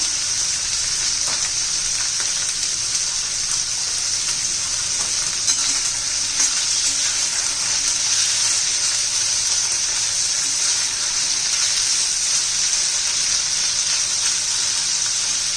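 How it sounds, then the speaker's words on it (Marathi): Capsicum sizzles steadily in a hot pan, a continuous close frying hiss with faint stirring scrapes throughout and no talking. "व्यवस्थित परतून घ्यायचं जरा मऊ करून घ्यायच्यात आपल्याला"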